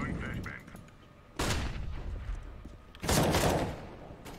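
Gunfire in a first-person shooter video game: two loud bursts of rapid shots, the second heavier and longer, with a quieter gap of ambient game sound between them and faint talk nearby.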